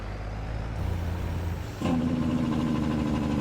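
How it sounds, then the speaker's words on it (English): A big truck engine in Farming Simulator 22 drones steadily, then shifts abruptly into a louder, harsher rumbling chatter as the Jake engine brake engages. "get the Jake brakes going"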